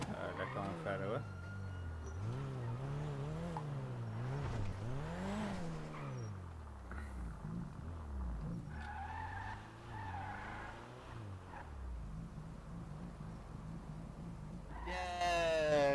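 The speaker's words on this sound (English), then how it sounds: "Yeah, it's a Supra." Toyota Supra in a video game skidding, with repeated tire squeals swooping up and down over engine drone, while people talk throughout.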